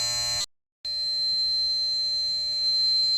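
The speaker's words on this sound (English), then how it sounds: "The alarm goes off, pump is pumping" A Beneteau 393 sailboat's bilge pump alarm gives a steady high electronic tone, cut by a short silent gap near the start, then sounding continuously and clearly with a faint hum beneath.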